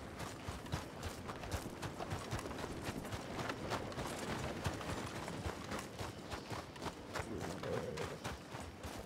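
Horse hooves clip-clop steadily in a Red Dead Redemption 2 story-mode ride, the rhythmic hoofbeats running throughout amid busy game ambience.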